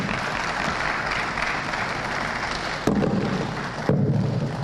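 Sustained applause fills a hall at a live South East Venture Capital Programme event in Enugu, a steady, loud roar of many hands with two sharp thumps near the end.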